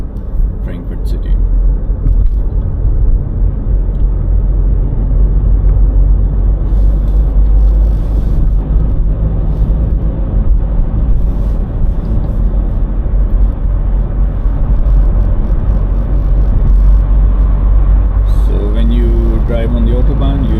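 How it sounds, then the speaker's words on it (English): A car drives along the A5 Autobahn near Frankfurt, with a steady loud rumble of engine and road noise under continuous talk inside the cabin. "this A5 Autobahn or highway that I'm driving on"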